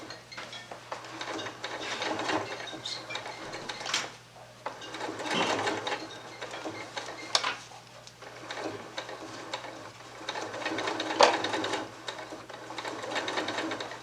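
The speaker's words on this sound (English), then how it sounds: "Stitching right on the edge." A sewing machine stitches right along a prepared edge of appliqué fabric, a steady close mechanical whir running in bursts with short pauses and a low hum beneath.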